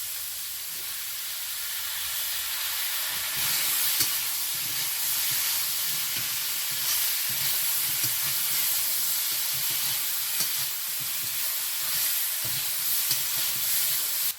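Green chilies fry in a pan in a home kitchen, giving a steady close sizzle and hiss of hot oil that swells slightly and runs unbroken, with faint stirring scrapes beneath it.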